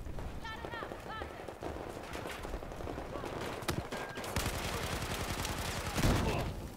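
Gunfire in Battlefield 4: rapid bursts and scattered shots of varying loudness, with voices speaking over much of the battle noise.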